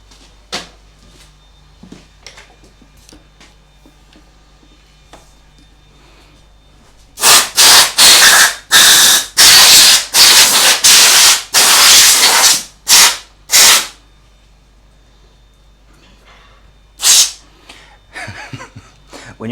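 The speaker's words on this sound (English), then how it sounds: "So let me fire up my compressor and give it a good blow." Compressed air from an air compressor blasts debris off a lawn mower engine being turned into a homemade outboard motor, in a run of loud, sharp hissing bursts, then one last short blast after a pause.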